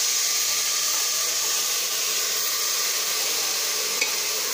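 Rice lightly roasting in a pan for beetroot pink rice gives a steady, loud sizzling hiss with gentle stirring, continuous and even throughout, with no voices.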